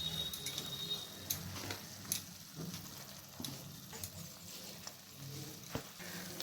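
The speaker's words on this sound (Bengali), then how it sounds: "এরপর ভেজে রাখা মাশরুমগুলো দিয়ে দিচ্ছি।" Fried mushrooms stirred into cooked spices that have released their oil, giving a steady soft sizzle with scraping stirs and occasional clicks of a spoon against the pan.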